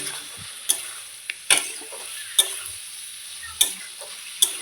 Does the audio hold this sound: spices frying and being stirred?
yes